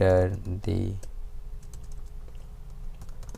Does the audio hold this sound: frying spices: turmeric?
no